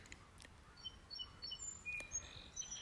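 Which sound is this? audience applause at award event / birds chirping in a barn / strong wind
birds chirping in a barn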